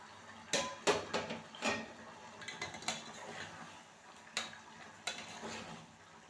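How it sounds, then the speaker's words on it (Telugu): A metal pot lid lifted and clattered over a pot of cooking eggplant in a home kitchen, with several sharp close clinks and scrapes, then quieter handling knocks, and no talking. "సరే మూత చూద్దాం ఉడికిందేమో వంకాయలు"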